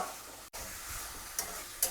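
Chicken pieces are sautéed in a pan for Bengali-style masala chicken, giving a soft continuous sizzle with a brief break and a couple of quick scraping stirs near the end.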